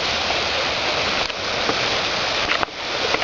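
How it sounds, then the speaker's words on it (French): Steady outdoor rain during a thunderstorm, a dense continuous hiss of falling water that stays close and even throughout, with a couple of brief dips and no speech. "il pleut un peu, mais ça se voit pas ça"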